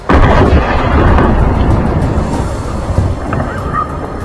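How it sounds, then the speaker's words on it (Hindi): A loud, sustained rumbling roar of an explosion after a US air strike at night, heavy low boom that slowly fades, with wind-like noise throughout. "अमेरिकी हमले के बाद जोरदार विस्फोट होता दिखाई दिया।"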